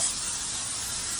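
Cooking spray hisses from an aerosol can onto a 37-inch Weber kettle grill being seasoned, one short, steady close-up burst.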